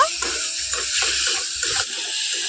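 Water pours into a pan of fried potatoes and bitter gourd in a home kitchen. A steady, close splashing flow lasts throughout with no talk.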